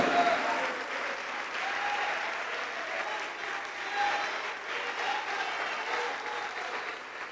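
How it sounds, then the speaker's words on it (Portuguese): Church congregation applauding together during a worship service, a steady, fairly loud wash of clapping from many hands that holds for several seconds with slight swells, without speech. "Vamos aplaudir ao nome do Senhor Jesus por cada vida que está chegando"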